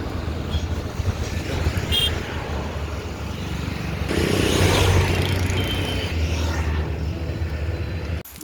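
Riding in an auto rickshaw through traffic brings a continuous engine drone and road rumble that swells midway, with wind noise and faint passing vehicles.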